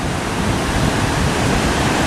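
A dense, roaring wash of Atlantic ocean waves breaking on Daytona Beach Shores, Florida, loud and steady with a windy rush, no voices.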